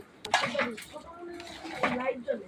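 Dal is stirred in a cooking pot, with a utensil clinking and scraping against the metal in a few uneven bursts, close by and moderately loud, while a person talks over it.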